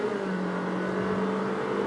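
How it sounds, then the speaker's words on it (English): A Honda WR-V car engine accelerates, a steady droning hum with a low tonal whine that holds fairly even throughout, heard from inside the car with no talking. "So it's like if I accelerate, that's what you will hear."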